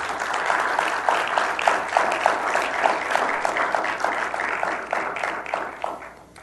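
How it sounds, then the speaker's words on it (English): Sustained applause from a civic audience at a State of the City address, steady dense clapping that swells then fades toward the end, with no talking over it. "if you all could please give Starla a round of applause"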